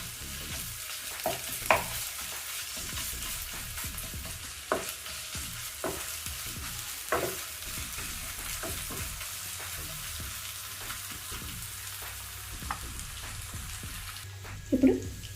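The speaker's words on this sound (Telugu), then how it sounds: "ఇప్పుడు 1 టీ స్పూన్ వరకు పేస్ట్ వేసి ఇది కూడా పచ్చి వాసన పోయే వరకు వేయించుకోవాలి" Ginger garlic paste frying in a pan with oil for a mushroom fry, a steady close sizzle running throughout, broken by occasional sharp scrapes and clinks of a stirring spoon.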